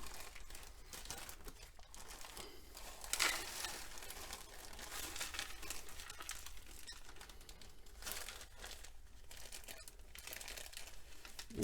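A plastic bag of gold paydirt is handled and cut open close up, with continuous crinkling and rustling and a few sharper snips and tears, quiet throughout.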